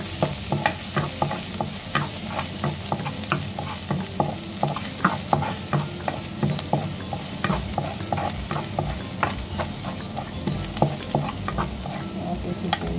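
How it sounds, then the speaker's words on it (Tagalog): Garlic sautéing in hot cooking oil for a tofu and kangkong dish, a bright continuous sizzle broken by regular scraping stirs of a utensil against the pan, close and moderately loud, with no one speaking. "Lagay na tayo ng mantika guys. Lagay na natin ang ating bawang."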